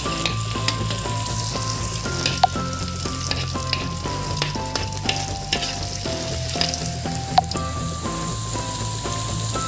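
Onions frying in a pan, a steady close crackling sizzle with dense popping that carries on unbroken throughout, no voices.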